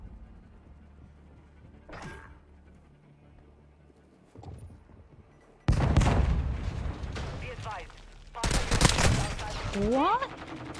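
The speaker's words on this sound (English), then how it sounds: "They're getting sniped at by somebody." Sniper gunfire in a video game, several sharp bursts that grow loud and dense toward the end, mixed with game noise and people talking.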